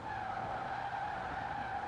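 Tires skid and squeal under hard braking of a fast car in the racing game Forza Horizon 4, a steady, continuous screech with no voice over it.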